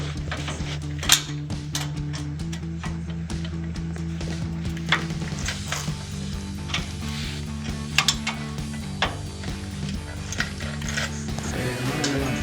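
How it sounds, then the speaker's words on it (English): A 15 mm ratcheting wrench working on a bumper bracket of a 2016-2023 Toyota Tacoma, repeated metallic ratchet clicks and clanks close by over a steady hum, no speech. "Okay, so I got the 15 millimeter wrench."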